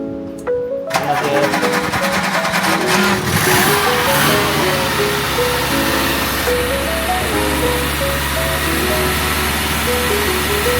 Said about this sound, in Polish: Uwaga, Jacek odpala golfa